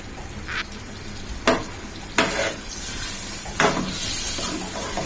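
Beaten eggs stirred into frying potatoes, a continuous sizzle broken by three or four distinct scraping strokes of a spoon across the pan, close up with no talking.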